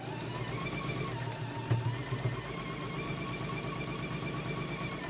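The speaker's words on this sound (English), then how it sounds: "I'm just going to stitch my 1/4 inch seam beautifully." A sewing machine running steadily while stitching a quarter inch patchwork seam for a star quilt block, with an even fast mechanical rattle that holds a constant pace throughout, fairly quiet and alone.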